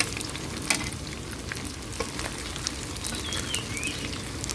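Rice frying crisp in hot oil makes a dense, continuous crackling sizzle, close and even, with small sharp pops scattered throughout.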